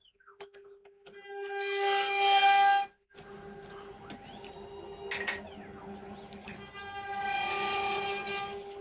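Stiff, lacquer-clogged jaws of a woodturning lathe chuck are worked open in short bursts of grinding, rasping friction, separated by brief pauses and a sharp click, close and fairly quiet.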